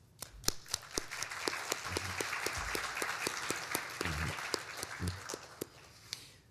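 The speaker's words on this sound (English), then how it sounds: "let's have a loud round of applause" An audience at a mayor's State of the City address with the Richmond Hill Board of Trade claps in moderate applause, with scattered sharp individual claps standing out and the sound tapering toward the end.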